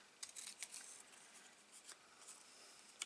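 Scissors make a few faint, quick snips and rustles while cutting paper for a handmade stamped greeting card, with short bursts separated by quiet pauses.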